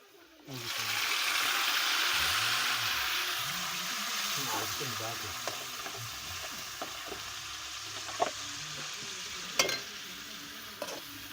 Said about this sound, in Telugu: ఇప్పుడైతే టమాటా ముక్కలు వేస్తున్నాను ఫ్రెండ్స్